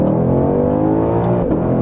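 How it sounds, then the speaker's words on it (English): A 2020 Shelby GT500 with 760 hp and a Tremec 7-speed dual-clutch pulls hard in first gear from a rolling start, its engine a loud, steady, rising roar heard close up from inside the car, with no talk. "We'll do a little rolling start here in first"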